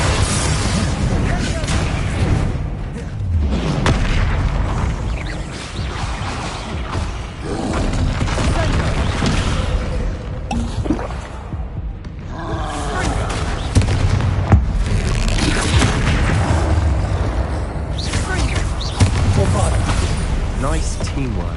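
Confringo explosive spell blasts in Hogwarts Legacy combat against a troll, dense booming bursts over a constant roar of battle noise with voices talking throughout.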